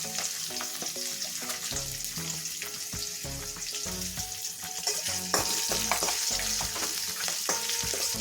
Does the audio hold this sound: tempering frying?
yes